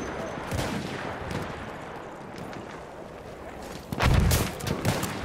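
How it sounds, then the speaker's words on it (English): Machine gun fire in the Battlefield 1 video game, a low rumbling battle din that breaks into a louder, heavier burst of fire near the end. "Machine gun right there!"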